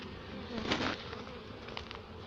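Honey bees buzz at a weak nucleus hive where newly emerged young bees are crawling out. Their dense, steady hum is close and continuous, with a brief louder swell as one passes near.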